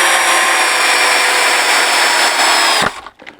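A cordless 18-volt drill-driver runs steadily in first speed, its motor giving a continuous high whine close to the mic. It spins down and stops near the end.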